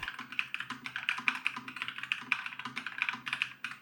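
Rapid, even typing on a Nuphy Air60 V2 mechanical keyboard with alloy switches, with crisp, clacky keystrokes close up and no voices.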